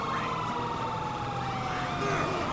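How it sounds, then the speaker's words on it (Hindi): A police car siren wails continuously in the video game GTA 5 while the car patrols, its tone sweeping up and down, loud and steady over a rumbling game background. "तो देखिए जाते हैं हम सायरन ऑन करके"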